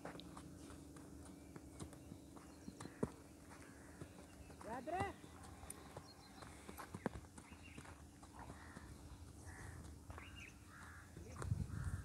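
A horse, a stallion of Nukra breed, walked along on foot with hoof clip-clops scattered through the clip amid ambient noise, crows cawing in the background, and people talking nearby.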